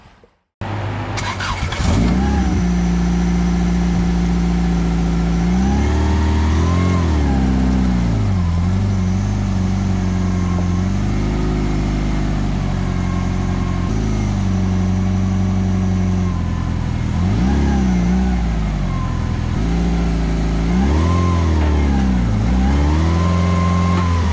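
A 1992 Subaru Legacy EP5 engine cranks and catches, then runs rough and loud up close, rising and falling through several uneven revs over a steady idle.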